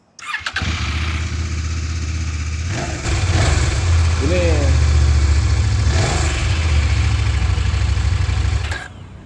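A CFMoto 800 MT-X inline two-cylinder motorcycle engine rumbles steadily at idle, deep and loud, revving up slightly partway through before settling back to a steady throb.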